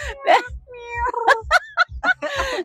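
A human voice mimics cat and pigeon calls, a string of meows and warbling cries in quick, uneven bursts, close and fairly loud.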